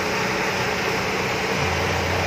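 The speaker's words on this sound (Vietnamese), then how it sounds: "máy nổ rất êm mà không có xíu độ hơi" A 1999 Mazda 323 engine idling smoothly, a steady low continuous hum and drone with no talk over it.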